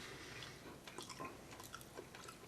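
Soft, wet chewing of canned cod roe close to the mic, a quiet continuous mastication with small squishy clicks and smacks.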